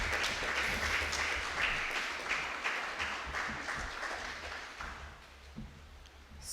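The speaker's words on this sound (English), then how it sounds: "Can we have a round of applause for Angel?" Sustained applause from an audience at a youth club awards ceremony for an athlete, a dense steady patter of many hands that gradually tapers toward the end.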